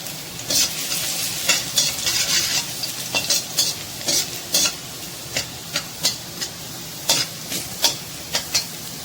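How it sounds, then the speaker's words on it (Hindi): Chopped garlic sautéing in two tablespoons of oil, with a steady sizzle and hiss broken by repeated scraping stirs of a utensil in the pan, close and clear with no talking. "जी तो देखें मैंने ऑयल डाला है 2 टेबल स्पून। अब मैंने इसमें चॉप लहसुन डालना है"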